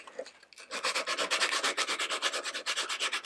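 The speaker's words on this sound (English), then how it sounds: "sand around that to widen the hole a little bit" Rolled-up sandpaper scours the inside of a small hole in a craft candy holder, giving a fast, steady rhythm of close, raspy back-and-forth rubbing strokes with no speech.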